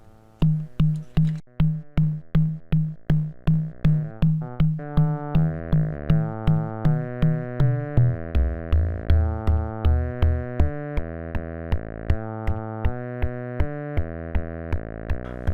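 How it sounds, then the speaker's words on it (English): A Kastle Drum synth plays alongside Pocket Operator audio, giving a steady run of sharp, evenly spaced percussive hits like a metronome with tonal synth pitches stepping underneath, loud and close with no talking. "we're going to get a drum, and we're also going to have the pocket operator audio"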